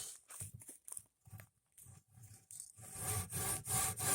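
Wood being hand-sawn after an angle cut, short irregular strokes at first, then a steadier, louder run of back-and-forth rasping strokes near the listener, no talking.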